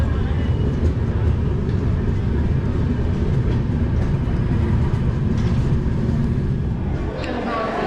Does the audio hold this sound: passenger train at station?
yes